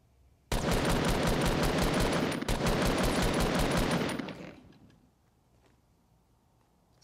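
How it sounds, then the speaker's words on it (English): Rapid automatic gunfire in Fortnite at Tilted Towers, a loud sustained burst of dense regular shots lasting about three and a half seconds, then fading into quiet game ambience. "see if I can shoot at him"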